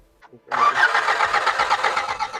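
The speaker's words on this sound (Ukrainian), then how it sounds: "Але стартер добре крутить, на 2 потужно." After a brief quiet moment, the starter of a cheap used car cranks and the engine catches, then runs loud and close with a rough, steady rumble.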